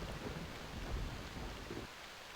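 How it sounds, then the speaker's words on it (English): Thunderstorm in the survival video game Stranded II: a steady wash of rain with low rumbling thunder swelling near the middle, then dropping away to a quieter hiss near the end, with no voices. "I got into a storm"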